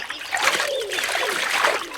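Water trickles and babbles continuously, a small stream flowing close by with light splashing throughout.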